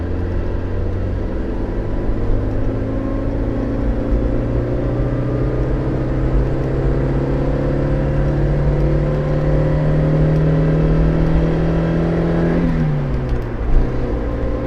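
A Toyota AE86 Corolla GT Twin Cam 16 engine drones loud and close at high revs, holding a steady harmonic roar before the pitch drops sharply near the end as revs fall.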